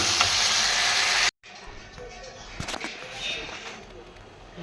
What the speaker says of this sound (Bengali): ফ্যাসা মাছের তরকারি নাড়ছি, এটা এখন এসে গেছে, একটু জল দিয়ে দেবো